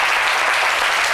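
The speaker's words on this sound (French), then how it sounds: "j'aimerais que vous l'applaudissiez" Studio audience applause greets a guest on a live television talk show set, a dense, steady wash of clapping at full volume throughout with no voices over it.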